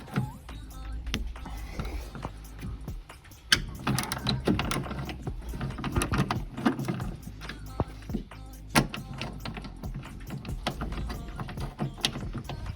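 Metallic clicks and ratcheting taps from a wrench loosening 10 mm bolts on an NB Miata power window regulator, a steady run of close, irregular mechanical ticks with no talking.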